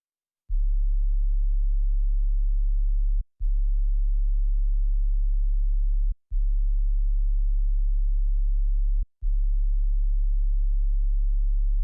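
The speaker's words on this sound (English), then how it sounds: "So lastly, all I've done is I've just added a sub bass, just following the root notes of the chords I placed down previously" Deep sine-like sub bass plays the root notes of a trap beat's chord progression with no effects, four long sustained notes separated by brief gaps, steady and loud with nothing else present.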